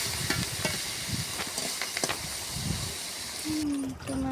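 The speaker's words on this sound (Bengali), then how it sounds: "তো কড়াইতে এবার তেল দিয়ে মাছটা দিয়ে দিচ্ছি।" Fish fries in hot oil in a wok, a steady loud sizzling hiss that runs throughout with a few crackles and a faint clink near the end, with no one talking.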